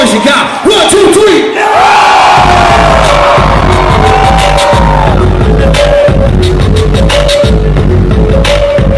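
Large audience at a Summerfest 2013 hip-hop concert cheering, whooping and yelling loudly and continuously, a dense close roar with rhythmic thumps running beneath it.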